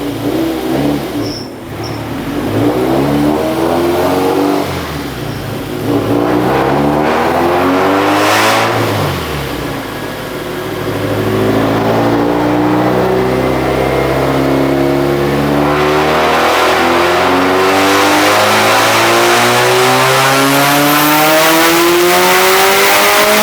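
A turbocharged Toyota 2AZ-FE four-cylinder revs hard on a dyno. It is loud and close, with rising and falling engine harmonics through repeated climbs and pulls. Brief whooshy bursts suggest turbo and valve noise, and no one speaks.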